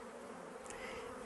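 Honey bees buzzing at a beehive, a steady, dense drone of many wings held close and even throughout, with no voices.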